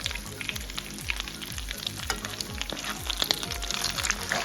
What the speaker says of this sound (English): They're still popping on the other side. And that's the grits as well.